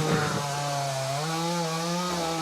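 A cartoon chainsaw buzzes steadily at close range, with a sustained droning whine that shifts slightly in pitch over a couple of seconds and runs alone without any talking.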